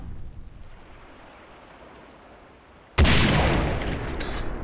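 Far Cry 3 gunfire bursts in suddenly at about three seconds and stays loud, a sharp crack followed by a sustained roar, after a quiet low rumble of game ambience.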